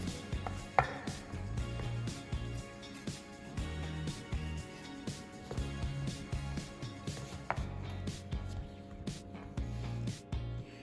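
A knife taps and scrapes steadily on a cutting board, shaping cheese patties (syrnyky), in a quick, uneven rhythm, close up, with no voices.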